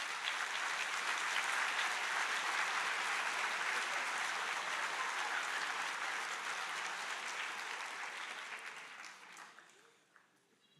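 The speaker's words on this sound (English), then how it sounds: "give yourselves and your instructors a round of applause" A crowd applauds steadily at a Concordia University Texas nursing pinning ceremony, the dense, fairly distant clapping holding evenly for about eight seconds before thinning out and fading to near silence.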